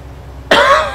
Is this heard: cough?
yes